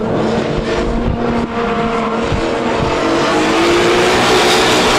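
Two BMW drift cars run in tandem at a Drift Colorado competition. Loud, sustained engine revving and tire squeal carry on without a break, close by and filling the whole stretch.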